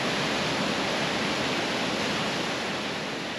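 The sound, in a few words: rushing waterfall on the Icefields Parkway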